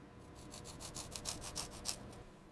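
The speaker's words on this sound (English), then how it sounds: "Smaller, intricate parts receive meticulous attention with specialized brushes" Specialized brushes scrub small, intricate Mauser rifle parts in quiet, rhythmic back-and-forth strokes, about ten close, faint scratchy passes with no voices.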